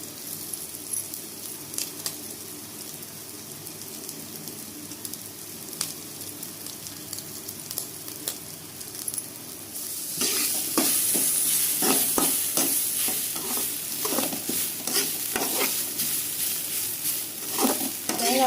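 Grated coconut and cardamom sautéing in ghee, a steady soft sizzle with stirring scrapes that grows louder and busier partway through, close and continuous with no talk.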